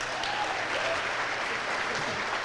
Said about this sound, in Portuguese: Eu queria pedir uma salva de palmas para eles.